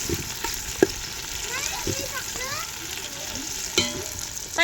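Onion, tomato and chili sauté in a pan with a soft crackling sizzle, broken by a few sharp scraping stirs of a utensil against the pan.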